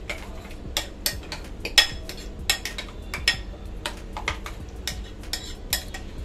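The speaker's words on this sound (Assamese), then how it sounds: "ভালদৰে মিক্স কৰি ল'ম" A spoon clinks and scrapes against a bowl while spices are stirred into raita, with sharp, fairly regular taps and rattles repeating close by and no talking.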